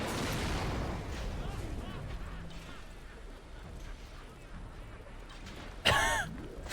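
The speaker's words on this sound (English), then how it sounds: "What are these explosions?" Explosions in the video game BioShock, a dull rumbling boom at the start, then a sharp loud blast near the end, with talk over the game sounds.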